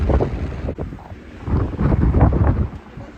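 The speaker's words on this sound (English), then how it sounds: "It's quite windy" Strong wind buffets the microphone in a continuous, roaring rush of broadband noise with gusty surges, and no one speaks.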